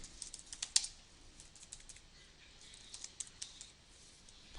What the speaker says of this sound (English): I'm typing here and you can't even see it